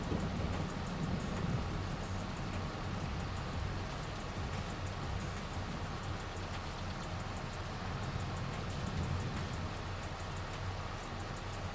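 Steady rainfall in the farming video game Farming Simulator, a constant even hiss of rain with a low rumble underneath, unbroken throughout and free of talk.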